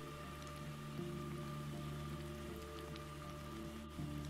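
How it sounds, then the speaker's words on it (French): Steady rain pattering on surfaces in the Roblox game Brookhaven, a soft continuous hiss of drops with faint tonal background hum, heard alone at low level. "il pleut beaucoup"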